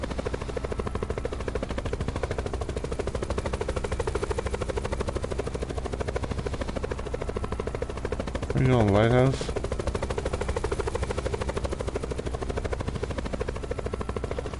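Helicopter in a video game, a steady rhythmic rotor thump droning throughout at moderate level, with a brief louder burst of gunfire near the middle and a voice speaking over it.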